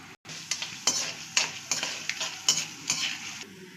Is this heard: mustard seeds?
yes